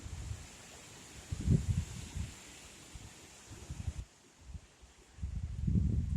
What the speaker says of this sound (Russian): Ой, ветер страшный.